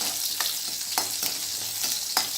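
Sambar onions (small shallots) sautéing in a pan for a wedding-style sambar rice, a steady close sizzle broken by several sharp scrape-and-stir strokes at regular intervals, with no talking.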